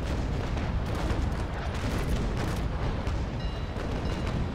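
A frigate fires a cannon broadside in the naval combat game Naval Action. Booming shots overlap into a dense, continuous rumble that stays loud throughout.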